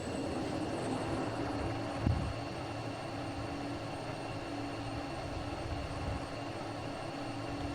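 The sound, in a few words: jet fuel starter spinning up in Falcon BMS flight simulator game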